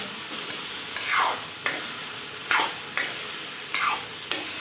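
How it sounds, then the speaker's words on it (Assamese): Chicken curry with potatoes, cauliflower, salt and turmeric is stirred in a pan with about seven sharp scraping strokes in an uneven rhythm. A faint sizzle runs between the close, clear strokes. "এতিয়া মই ইয়াতে নিমখ, হালধিখিনি দি ভালকৈ মিলাই ল'ম।"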